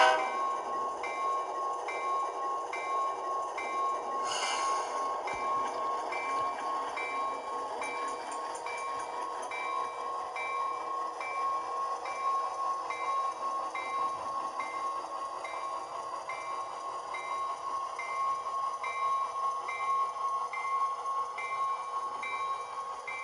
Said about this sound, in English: we're going to throw the locomotive into reverse here, and we're going to track it as it goes down the little test track here